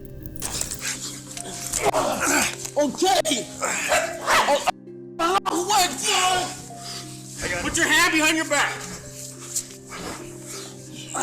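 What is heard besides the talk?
service dog barking and whimpering during arrest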